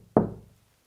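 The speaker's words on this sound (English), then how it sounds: "Maybe you could knock like this." A single solid knock on wood inside an old abandoned house, close and sharp, fading quickly into silence.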